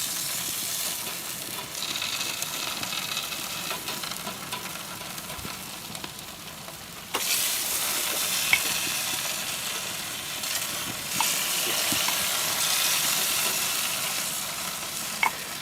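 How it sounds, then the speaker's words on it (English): Bacon strips sizzling on a barbecue grill, a continuous crackling hiss that swells louder partway through, with a few faint clinks. "Grilled bacon quesadilla."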